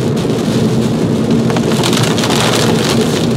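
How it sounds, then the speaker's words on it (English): Dense, steady hail drums hard on the body of a car during a July storm, a continuous loud clatter with no gaps. "I can't believe this, a hailstorm in the middle of July."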